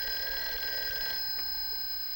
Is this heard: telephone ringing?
yes